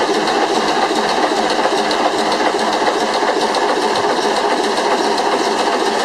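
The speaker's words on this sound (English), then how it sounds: "Also a water pump is one of those reciprocating pumps that's running there" A reciprocating water pump and engine valve gear work aboard a 22-metre Alaska Packers tug, giving a dense, steady rhythmic clatter and ticking, close and constant, with no talk.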